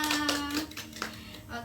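A group of women in an Indonesian financial-planning training session clap together. Their applause is a burst of uneven, overlapping claps that fades within about a second and a half, mixed with some voices.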